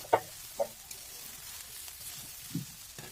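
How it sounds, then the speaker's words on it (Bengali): A chicken pasta mix seasoned with Maggi masala is stirred in a pan, giving a few sparse spoon knocks and scrapes over a faint, low sizzle, with no talking. "দেওয়ার পর আমি এটাকেও ভালো করে এর সাথে নেড়ে চেড়ে মাখিয়ে নিলাম"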